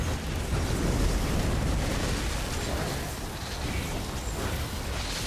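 Heavy cannon fire in Elder Scrolls Online during a Sanity's Edge raid, with dense, sustained booming rumble and blasts filling the whole stretch at a loud, steady level, no clear gaps.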